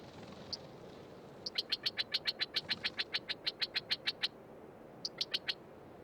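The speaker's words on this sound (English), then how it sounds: "The loud, clear call of the California quail is fairly common again in much of the state." A California quail gives a rapid series of loud, sharp, high-pitched calls repeated steadily about 15 times, a pause, then a short burst of four more, over a quiet outdoor background.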